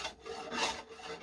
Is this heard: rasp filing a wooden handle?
yes